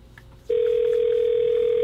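A telephone dial tone heard when calling out: after a brief moment of faint background, a single steady electronic tone switches on and holds unbroken at an even loudness.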